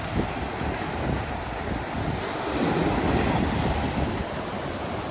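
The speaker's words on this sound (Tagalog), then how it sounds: "Wow, sobrang lakas ng alon." Strong ocean waves crash near Barbers Point Lighthouse in Hawaii, a loud, continuous surging roar with heavy wind buffeting the microphone and no voices.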